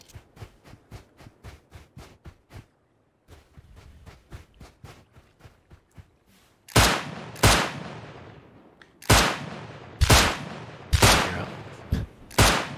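Gunfire in Rust Console Edition: after a run of quieter rhythmic clicks and steps, a series of loud, sharp shots rings out close by, coming singly and in quick pairs with short echoing tails.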